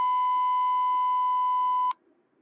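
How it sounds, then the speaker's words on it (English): A steady electronic CTCSS tone beep from a radio encoder holds for about two seconds, then cuts off abruptly into near silence. "so we should now hear a beep"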